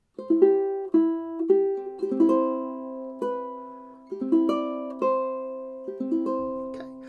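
Fingerstyle ukulele phrase from a song, played alone and close: a slow run of distinctly plucked notes and short chords that ring out and decay, with steady timing and no voices.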